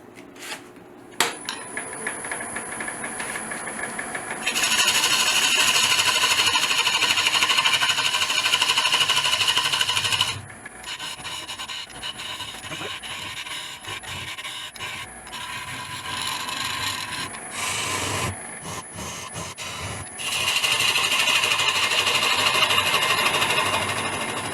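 A wood lathe turns a walnut bowl as a tool cuts a tenon, giving bursts of scraping, hissing cutting noise over a steady mechanical hum, with pauses where only the motor runs.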